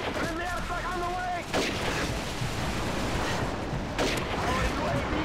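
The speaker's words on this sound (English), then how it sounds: "Friendly airstrike on the way!" Airstrike explosions from the video game Call of Duty 4, heavy booming blasts landing twice amid constant gunfire and game noise, with a short burst of in-game radio chatter at the start.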